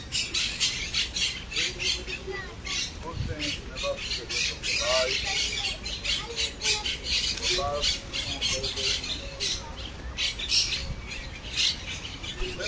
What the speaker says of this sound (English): Same way these birds are flying down to come and eat.